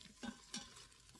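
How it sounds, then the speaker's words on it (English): Oxtails browning lightly in a pan for a rutabaga and oxtail soul food dish, giving a soft steady sizzle with a couple of brief stirring scrapes, close and fairly quiet with no talking. "But you're just frying. Just getting a nice little fry on it."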